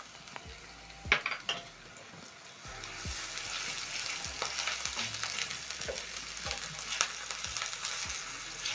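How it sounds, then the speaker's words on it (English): Diced onion, minced garlic and ginger sautéing in oil for a Kenyan lentil stew, a quiet start with a few clinks of utensils, then a steady sizzle with stirring taps against the pan. "Saute for around 1 minute until the onions are a little bit golden brown"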